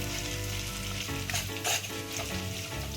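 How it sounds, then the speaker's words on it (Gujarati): Split moong mogar dal hits hot oil for tempering, setting off a loud, continuous sizzle and crackle with a brief stirring scrape midway. "હવે એમાં મગની મોગર દાળ નાખવાની વઘારમાં."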